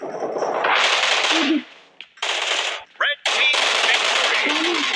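Bursts of automatic gunfire from the PUBG Mobile battle royale game, loud continuous rattling volleys broken by two short pauses, with faint game sounds between.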